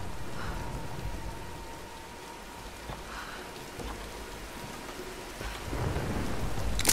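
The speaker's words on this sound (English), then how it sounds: "Storm." Steady rain pours during a thunderstorm in Tomb Raider, with several distant thunder rumbles and cracks rolling through and the downpour swelling louder toward the end.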